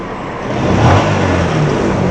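Yamaha X1R motorcycle with an upgraded R15-based 135 engine and a new clutch idles steadily and swells briefly in a short rev before settling back to a smooth, fairly loud hum, with no talking.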